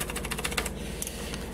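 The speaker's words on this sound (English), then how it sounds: "I managed to get a good deal on a mechanical keyboard made by Geezer." Rapid typing on a cheap Geezer GS3 mechanical keyboard, a quick burst of clacky keystrokes followed by a few scattered presses, close and clear with no talking.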